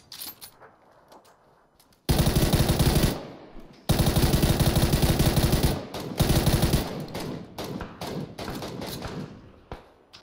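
Gunfire in the video game PUBG rings out in loud, sustained bursts of automatic fire, long rattling volleys broken by short gaps, after a few quieter shots at the start.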